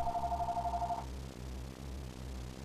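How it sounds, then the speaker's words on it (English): A phone rings with a rapid warbling electronic trill that lasts about a second and then stops, leaving a low steady hum beneath. "it was some sort of other kind of ringtone thing"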